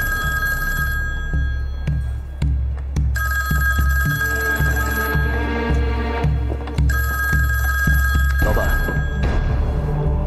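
A telephone rings repeatedly in a rhythmic pattern of bright electronic trills with short gaps, loud and close, over a low steady hum with no speech.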